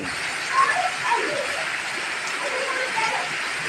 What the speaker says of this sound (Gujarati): વરસાદ ચાલુ ધમધોકાર તમે જોઈ શકો છો.